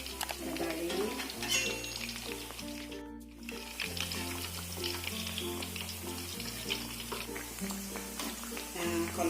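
Corn and shrimp fritters fry in a pan with a steady sizzle throughout, while someone talks over the cooking and background music plays.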